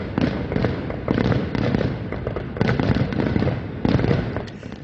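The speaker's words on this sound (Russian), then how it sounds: "Салют на Ниагарском водопаде явление нередкое" Fireworks burst over Niagara Falls in a loud, crackling barrage, with clusters of pops and bangs recurring roughly every second over a constant rumbling background.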